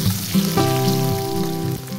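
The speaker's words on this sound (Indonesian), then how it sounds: "Kita tumis sampai wangi." About six shallot cloves sizzle as they are sautéed in a little frying oil, a steady crackling fry with a tonal hum running underneath, close and continuous without any talk.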